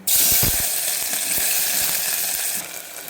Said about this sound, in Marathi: तेल गरम झालं आहे आता याच्यामध्ये कांदा टाकायचा एक आडवा कट केलेला कांदा टाकायचा